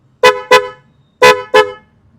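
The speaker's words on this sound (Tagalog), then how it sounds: "Napapangitan or nahihinaan ka na ba sa tunog ng busina ng sasakyan mo?" The stock horn of a Geely Okavango honks loud and close in two pairs of short blasts, with a brief silence between the pairs.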